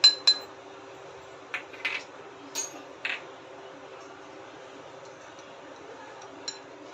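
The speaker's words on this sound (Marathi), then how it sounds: "2 चम्मच कस्टर्ड पावडर पाऊण कप दुधामध्ये मिक्स करून घेऊया" A spoon stirs vanilla custard powder into milk, making a few light clinks and taps against the cup or bowl, sparse and close, separated by stretches of near silence.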